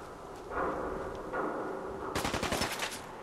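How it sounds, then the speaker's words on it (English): Rapid automatic gunfire in the Fallout 4 video game, a dense burst of shots crackling in the second half after a stretch of lower combat rumble, loud and close with no talk. "I'm getting shot from behind."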